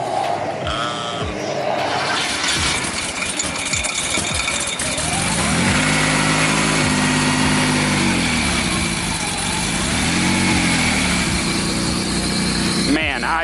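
A brand-new big-turbo engine in a Porsche 930 runs steadily just after its first start-up, a loud continuous mechanical drone with rising and falling revs and rattly texture throughout.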